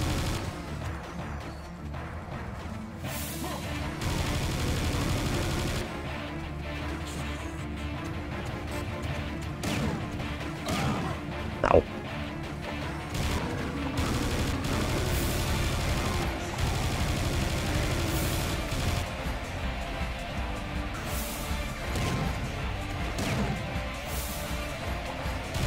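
Explosive weapon fire in Serious Sam 2, ongoing loud bursts and blasts layered over a dense game soundscape, with one sharp crack standing out midway.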